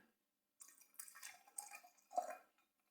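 Fever Tree Mediterranean tonic water pours into gin in a glass, a short close fizzy trickle with a few drips lasting about two seconds, then stopping.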